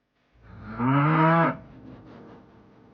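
A single drawn-out bull moo, loud and close, rising in a deep, tonal bellow and then fading into a low breathy tail.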